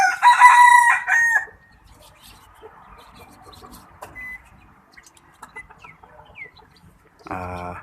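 A rooster crows loud and close from a chicken-call decoy, one long strained crow followed by near silence with faint scattered sounds, then another harsh burst starts at the very end.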